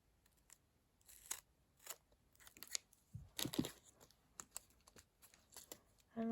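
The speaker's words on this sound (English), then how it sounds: "Just trim it with scissors." Paper being trimmed with scissors while making recycled Christmas shaker gift tags with foil shapes: a run of short, dry snips and crisp clicks in an irregular rhythm, close and fairly quiet.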